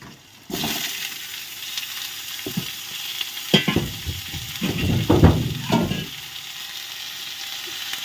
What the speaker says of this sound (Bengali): এরপর আমি কেটে রাখা বেগুনগুলো দিয়ে দেবো